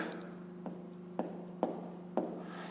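Pen marks a fifth-grade math exercise by hand, with a few soft strokes and taps against a quiet background hum.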